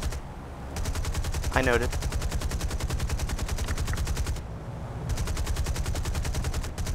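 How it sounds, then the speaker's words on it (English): Anti-aircraft guns fire at a B-17 bomber in the War Thunder flight game, giving steady, rapid-fire thumping bursts that run almost continuously with brief pauses, while a voice speaks briefly over it. "You got a triple A shooting you."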